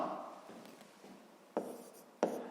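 Pen or pencil writing on paper during a fifth-grade maths lesson, heard as faint, close scratching followed by two sharper taps, quiet against a soft background and without speech.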